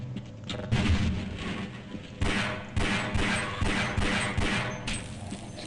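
Shotgun blasts in Half-Life, several heavy booming shots fired in quick irregular succession amid game clatter and crashes.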